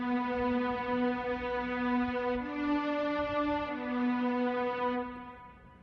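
Sustained, harmonically rich strings from the Fuego VST, aged with RC20 and Finisher Retro filters and EQ'd to trim the highs, hold steady chords with a slight pitch shift midway, then fade at the end.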